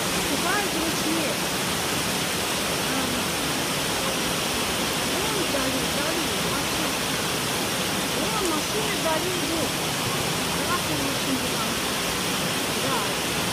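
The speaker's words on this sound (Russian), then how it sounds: "Будем ждать, когда закончится этот чудесный ливень с градом пополам." Heavy downpour of rain mixed with hail pours down steadily, a dense, loud, continuous roar with no pauses, like rushing water.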